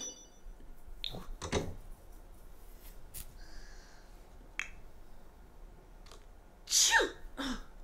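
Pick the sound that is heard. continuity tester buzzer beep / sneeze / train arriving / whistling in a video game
sneeze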